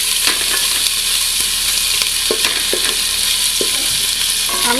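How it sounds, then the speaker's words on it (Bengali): Garlic paste frying in a pan with ginger paste while making Old Dhaka-style chicken tehari, a steady close sizzle with scattered stirring scrapes and soft clinks throughout. "আর রসুন বাটা 1 চা চামচ। হালকা করে এটাকে ভেজে নেব 2 মিনিট মতো।"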